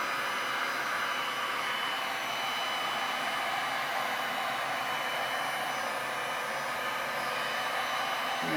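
A heat gun blows hot air over resin on a wood panel, giving a steady, loud, close whooshing roar that holds constant throughout with no talking.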